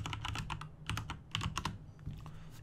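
Typing on a computer keyboard while working in Photoshop produces close, quick bursts of clicking keys in an uneven rhythm, with a short pause partway through.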